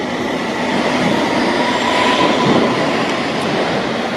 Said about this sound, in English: departing now, we have the district line service to Tower Hill